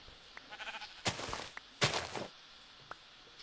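Sheep bleating in a survival video game, several loud bleats in a row, closely spaced and heard alone with no talk.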